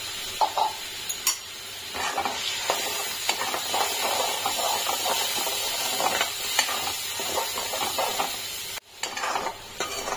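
Tomato paste hits a frying spice tempering in hot oil, giving a steady loud sizzle with scraping stirring strokes and a brief sharp drop near the end.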